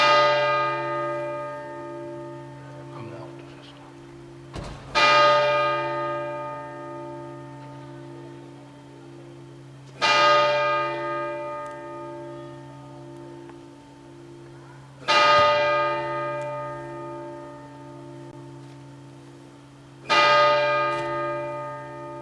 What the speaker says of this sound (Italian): le campane della cattedrale di Agrigento tornano a suonare, ma non a festa